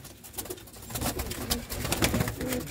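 A pigeon held in someone's hands coos close by, throaty calls among rustling and wing-flutter noises, fairly loud.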